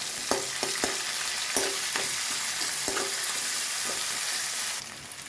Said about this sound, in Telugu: ఇది కొంచెం వేగాక 5 నిమిషాలు వేగనివ్వాలి.